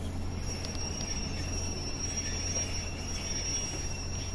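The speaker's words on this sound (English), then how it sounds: "get this train parked up for its journey back to Blackpool South" A Pacer diesel multiple unit pulls in with wheels squealing, a sustained high metallic whine over a low steady rumble of the train, with no voices.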